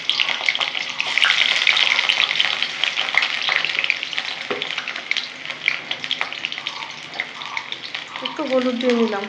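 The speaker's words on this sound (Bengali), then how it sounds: "ভেজে নেবো বন্ধুরা।" Marinated chicken with onion and a little turmeric fries in a pan, giving a steady loud sizzle throughout with occasional stirring scrapes and clinks.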